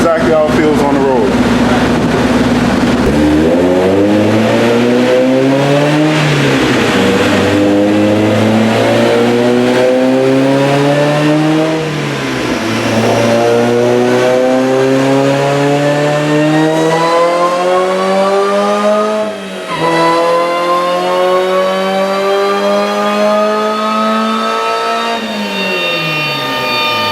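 A supercharged Mazda Miata engine revs hard on a dyno through several rising pulls, loud and close, with shifts between gears and a sustained high howl, while people talk faintly beneath it.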